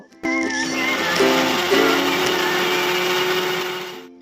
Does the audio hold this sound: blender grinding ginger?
yes